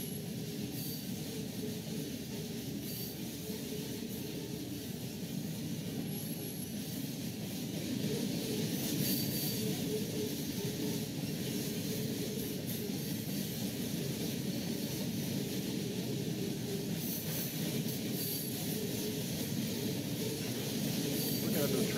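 Train running in the rail simulation game Trainz 12: a steady, continuous low rumble of rolling wagons with faint squeal overtones, holding evenly for the whole stretch and swelling slightly partway through, with no one talking.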